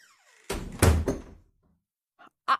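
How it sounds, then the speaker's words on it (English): A door is pulled firmly shut with a loud, close thud and rattle, followed after a pause by two quick, lighter clicks. "She took him firmly by the arm and closed the door behind him."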